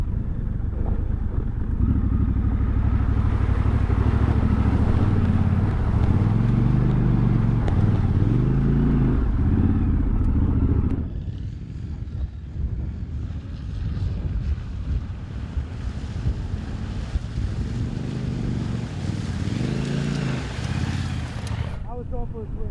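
A Triumph Scrambler 1200 XE motorbike engine drones and revs while splashing through a deep off-road water crossing, with heavy wind buffeting the microphone and a shift in texture midway through.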